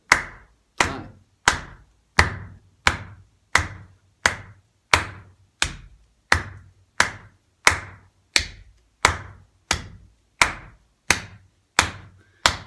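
Steady claps ring out roughly every 0.7 seconds in an even rhythm, about eighteen sharp hand claps, each paired with a dull low stamp of a foot, close and clear with no talking, during a body-percussion exercise.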